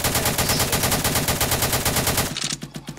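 Rapid automatic gunfire in the Roblox game Harbour Havoc, a loud, steady stream of closely spaced shots that cuts off near the end, leaving a few scattered bursts.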